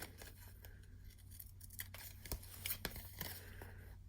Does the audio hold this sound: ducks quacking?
no